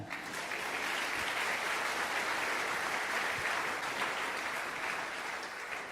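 A church congregation claps together in a loud, continuous wash of many hands, steady and close, with faint voices mixed in throughout.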